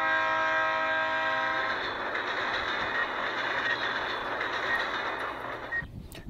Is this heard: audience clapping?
no